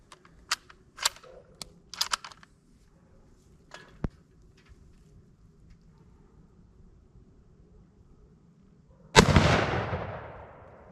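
A 6.5x52 Carcano rifle fires one loud sharp shot that rings out near the end, after several small clicks and taps from handling.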